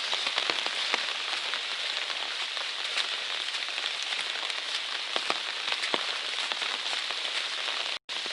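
Rain falls harder on a hiking trail at night, a dense, even patter of drops hissing continuously at moderate loudness with scattered sharper ticks, alone without talking, briefly dropping out for an instant near the end.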